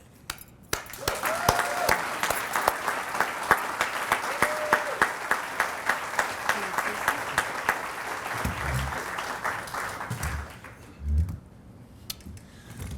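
Audience applauding after a speech at a Craig Hospital event, a dense, sustained clapping that runs steadily for about ten seconds, then thins into a few scattered claps with a brief murmur of voices.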